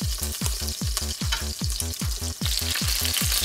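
Meatballs fry in a pan with a steady bright sizzle, broken by a regular series of rhythmic scraping stirs, close up and with no talking.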